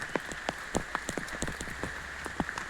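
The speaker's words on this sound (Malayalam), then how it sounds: "ഇച്ചിരി മഴ കുറഞ്ഞിരിക്കുന്ന കേട്ടോ ഇപ്പോൾ." Light rain falls steadily outdoors in a Kerala home setting, drops pattering on a surface in irregular, close taps over a soft continuous hiss, with no voices.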